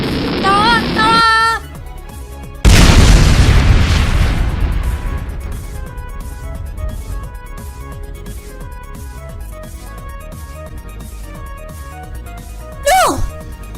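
Cartoon explosion from a Pokemon move in an animated episode: a loud boom bursts out after a character's shouting, then fades into a long rumbling tail under background music, with a brief squeal near the end.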